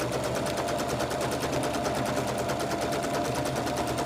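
A sewing machine runs steadily at full speed, stitching a seam on a patchwork pillowcase with a fast, even needle chatter that never pauses, close and fairly loud.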